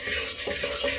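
Thick melted syrup for furikake Chex mix being stirred in a pot, a soft continuous sticky swishing with light scraping, close and steady for about a second.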